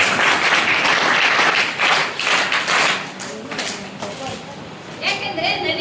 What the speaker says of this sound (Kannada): ಅದಕ್ಕೆಲ್ಲ ನೀವು ಜೋರಾಗಿ ಚಪ್ಪಾಳೆ ಹಾಕಬೇಕು